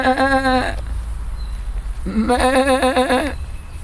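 Two bursts of bleating from sheep, including rams and lambs, wavering cries close by, the second longer, over a low rumbling background.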